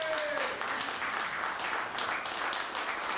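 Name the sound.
audience applause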